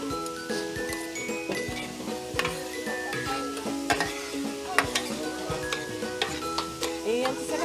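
Mushrooms cook in a pan during a kids' vegan cooking class, with repeated stirring scrapes and light taps over a gentle sizzle while a steady tonal hum runs underneath.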